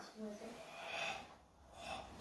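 Someone takes slow, deep breaths in through the nose before a judo-style head block, soft airy inhales and exhales at close range.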